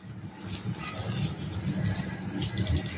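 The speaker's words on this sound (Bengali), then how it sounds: "এইবার দেবো এতে গরম জল।" Hot water pours steadily into a pan of cooking mutton liver (kaleji kosha) over a medium flame, a continuous gushing, splashing wash close by that holds for the full length without pause.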